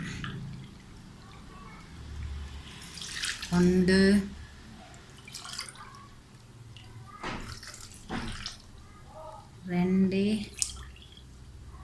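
Water is poured into a pan for custard powder halwa, about three cups measured out in the same cup used for the powder, splashing and trickling in a few short bursts while a person talks throughout.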